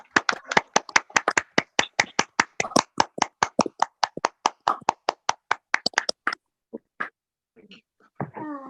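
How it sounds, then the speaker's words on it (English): A small group claps in a fast, even rhythm, crisp and close, for about six seconds, then stops abruptly. A few scattered sounds and a brief voice follow at the end. "Big applause for yourself. Clap for yourself."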